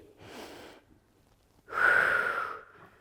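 A person breathing during a beginner pilates exercise: one soft inhale, then a longer, louder exhale a moment later, close and clear with quiet around it.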